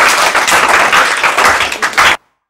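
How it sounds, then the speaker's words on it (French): A school audience claps for fourth-grade students after an eloquence exercise, loud, dense and close, lasting about two seconds before it stops abruptly into silence. "On peut les applaudir."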